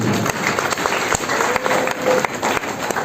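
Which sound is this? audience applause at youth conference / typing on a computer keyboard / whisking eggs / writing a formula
audience applause at youth conference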